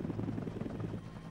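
A helicopter gunship flies overhead on a fire-support escort during an aerial spraying mission in Colombia, its rotor chop a steady throbbing drone at moderate distance, no voices.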